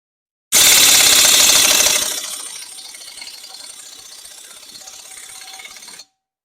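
Ratchet with a 17mm socket turning a wheel stud on a 2016 Ram ProMaster City during rear brake work: a loud burst of fast ratcheting clicks up close, then quieter lingering mechanical rattling.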